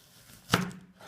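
A single crisp knife chop through garlic or onion onto a wooden board, close and distinct over a quiet background.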